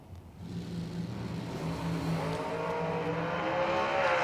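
Drag racing dragsters launch off the line at Galot Motorsports Park during a spring bracket race, engines building from a low rumble into a rising, loud roar that swells to the end of the clip, no voices.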